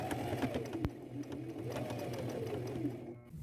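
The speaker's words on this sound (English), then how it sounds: "with a small zigzag stitch, I'll stitch around all the edges, staying fairly close to the edge" A sewing machine runs a small zigzag stitch around patches on jeans, whirring steadily and close for a few seconds before easing to a stop.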